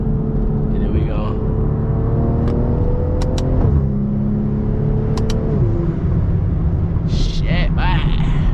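A BMW M340i with a catless downpipe roars under acceleration, the engine note rising then dropping on downshifts with rough exhaust rumble and crackles toward the end, while a person talks over it.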